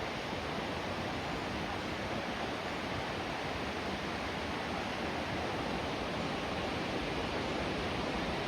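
Falling Springs Falls in Alleghany County, Virginia, water cascading down a cliff where two streams meet, a steady, dense broadband roar that holds constant and fairly distant throughout, with no voices.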